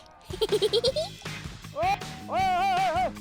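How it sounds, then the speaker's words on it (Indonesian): A large flock of sheep, more than a hundred animals, bleats in a loud chorus outdoors as they leave their pen. There are quick wavering cries followed by longer drawn-out bleats, with no talking. "Ada yang bisa tebak berapa jumlah kawanan domba ini?"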